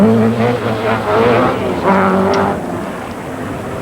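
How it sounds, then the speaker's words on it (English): A Toyota Celica rally car driven by Per Eklund on a 1981 RAC Rally stage, its engine holding a loud, steady roar close by that rises and falls slightly across the passage. "Former Saab driver Per Eklund, battling for a top 10 place in the Toyota Celica"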